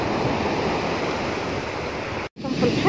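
Continuous wash of sea surf breaking on a beach shore, a broad roaring rush with wind buffeting the microphone, briefly cut to silence near the end before returning.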